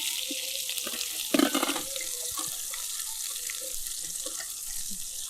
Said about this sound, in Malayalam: അരിഞ്ഞു വെച്ച ഉള്ളി ഇനി ഇതിൽ നമുക്ക് ഇടാം.